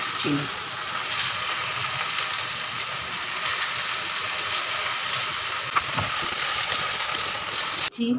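Mango pickle with jaggery and sugar cooks in a pan, giving a steady close sizzling hiss with faint scraping from stirring, continuous throughout with a brief clatter near the end.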